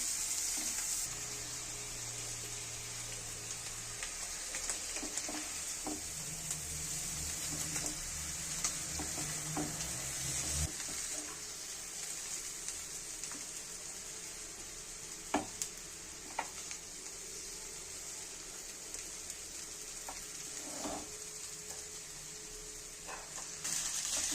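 Vegetables fry in a pan before soaked chowmein noodles go in, a soft, steady sizzle with occasional faint stirring clicks and scrapes, quiet and unbroken without speech.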